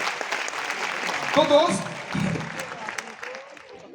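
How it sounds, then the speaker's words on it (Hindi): Indoor audience clapping for first-time guests at a gathering, a dense burst of applause that swells and then tapers, heard alongside someone speaking. "अभी तक की सबसे शानदार ताली होनी चाहिए"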